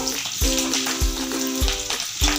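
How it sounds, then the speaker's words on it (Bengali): Panch phoron spices sputter in hot oil with a continuous, fizzy sizzle, accompanied by a steady background music beat and no voices. "পাঁচফোড়ন সুন্দর ভাজা হয়ে গেছে,"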